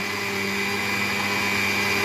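A kitchen mixer grinder whirs at full speed grinding spices for a chicken dish, a loud, steady high-pitched motor drone with no pauses and no talk.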